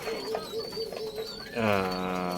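A male racing pigeon coos close by, soft throaty rolling calls building to a fuller, louder coo near the end, with faint background noise.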